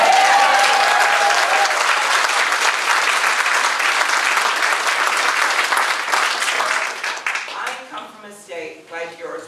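Sustained applause and clapping from a large crowd at a campaign rally in Cedar Rapids, loud and dense for most of the span before thinning into scattered claps near the end, with some voices mixed in.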